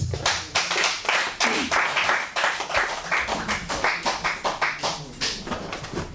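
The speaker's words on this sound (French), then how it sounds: "Applaudissez." Steady rhythmic clapping from a church meeting audience fills the room, many hands striking in a loose, fairly loud beat that runs throughout with no talk over it.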